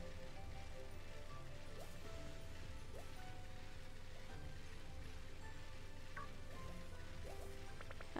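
Steady video game rain hisses throughout with scattered small patters and faint clicks, a continuous wet background with no voices.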